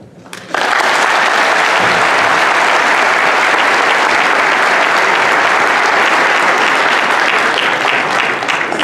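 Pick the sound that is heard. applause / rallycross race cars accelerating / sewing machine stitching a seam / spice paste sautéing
applause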